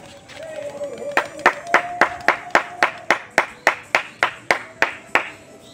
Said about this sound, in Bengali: হাততালি দিয়ে অভ্যাস হয়ে গেছে।